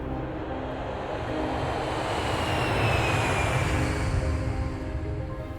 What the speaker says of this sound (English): As the plane took off for San Diego